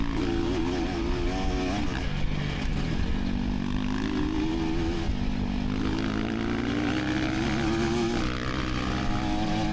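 A 2024 KTM 300 XCW dirt bike racing up a hill, its two-stroke engine droning loud and steady throughout, pitch rising and falling slightly with throttle, with no talk.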